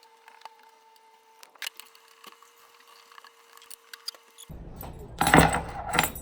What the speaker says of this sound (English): Gotta return my keys to BMH